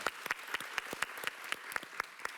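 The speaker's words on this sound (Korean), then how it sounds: "네, 박수 한번 부탁드립니다." A modest audience at a K-Pop panel discussion claps, a close, fairly sparse run of distinct hand claps at an uneven rhythm, fairly quiet and alone without talk.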